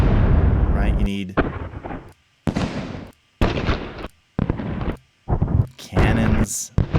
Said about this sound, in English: cannons, eruptions, fireworks, dynamite